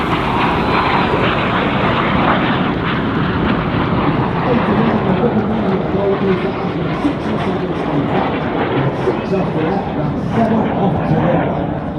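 Red Arrows jets and a CF-18 make a low crossing pass over water at an air show, a loud continuous jet roar that fills the whole stretch while an announcer talks over it.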